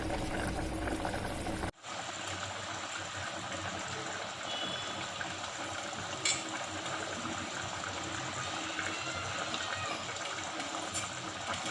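Fish simmering with jaluk pepper and garlic in a pot: a continuous bubbling boil that starts abruptly after a brief cut and stays steady and close throughout.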